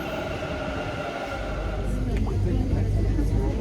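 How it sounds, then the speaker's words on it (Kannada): A metro train arrives at a Bengaluru station on a busy Saturday, its low rumble building louder and closer over a faint hum while a person talks over it. "ನನ್ನ ಟ್ರೈನ್ ಬಂತು."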